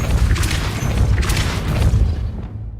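Depulso spell impacts in the video game Hogwarts Legacy, a dense run of heavy booming thuds and crashing bursts that overlap into a loud, rumbling barrage before tailing off.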